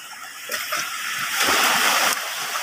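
Sea waves surge and splash nearby in a rushing burst, swelling louder for a moment before settling back to a steady wash.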